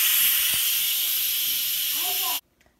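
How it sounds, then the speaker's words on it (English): Loud, steady steam hiss from an Instant Pot's quick pressure release while cooking hard boiled eggs, holding broad and even for over two seconds before cutting off abruptly into near silence. "So we have to release the pressure."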